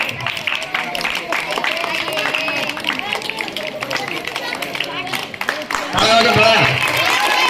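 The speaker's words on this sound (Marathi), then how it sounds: "सगळ्यांनी टाळ्या वाजवायचं" An audience at a rural camp magic show put on by a college claps along amid lively crowd chatter, and the applause grows louder and denser toward the end, mixed with voices.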